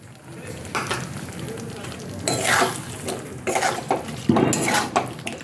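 Potatoes and spices for a vegetarian aloor dum sizzle in a pan as spice-rinsing water is added, bringing bursts of frying hiss along with clinks and scrapes of stirring, close up with no speech.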